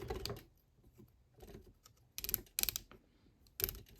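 Plastic Lego Technic joints on the Ninjago Fire Knight Mech (71846) click and rattle as the wrist is posed, with a few sharp, close clusters of clicks separated by softer handling noise and no talk.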